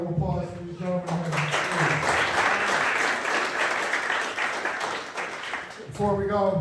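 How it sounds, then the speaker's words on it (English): Applause from an audience at a boxing gym re-opening event, a dense, sustained wash of clapping and some cheering between stretches of someone speaking over a PA at the start and end. "Another round of applause for these gentlemen."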